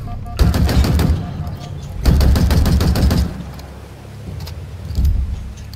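Bursts of automatic gunfire in Halo Infinite aimed at a propaganda tower, two long loud volleys with a quieter stretch between and a brief final burst, game sounds underneath.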